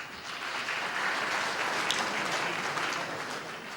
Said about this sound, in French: On applaudit pour ça d'abord.